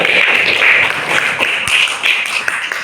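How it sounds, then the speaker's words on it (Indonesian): An audience claps in steady applause for close to three seconds, with dense, continuous hand claps that swell slightly and then hold. "beri aplaus untuk kita semua"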